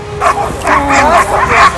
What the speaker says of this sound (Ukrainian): три собаки одночасно можуть атакувати озброєного правопорушника, який відстрілюється